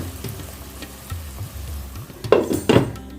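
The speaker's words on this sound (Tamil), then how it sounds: "இப்போ வந்து நல்லா ஒரு மிக்ஸ் கொடுப்போம்" Tomatoes and green chillies frying in a pan for mushroom gravy, with a soft sizzle under two sharp scraping stirs of a spoon against the pan near the end.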